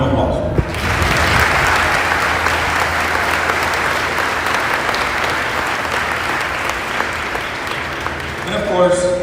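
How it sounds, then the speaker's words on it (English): Audience applause at a police recruit graduation ceremony, a dense, steady wash of clapping from a large crowd that starts abruptly and holds loud for about nine seconds before thinning at the end. "Round of applause."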